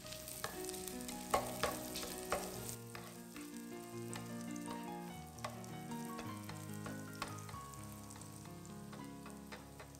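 Chopped shallots and black garlic fry in melted butter in a pan, giving a steady close sizzle with small pops and crackles from start to finish, with tonal background music playing over it.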